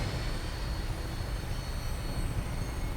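A Vertibird aircraft in the Fallout 4 video game roars steadily as it prepares for takeoff, a loud, continuous engine rumble with a high whine running through it and no talk.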